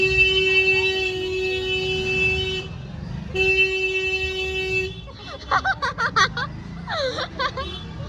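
A car horn blares in two long sustained blasts close by, followed by people talking and laughing.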